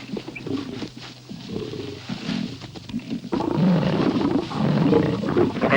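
Male lions in Etosha fight over a lioness, letting out loud, rough roars and snarls that swell and grow more intense partway through, close and continuous with no talk.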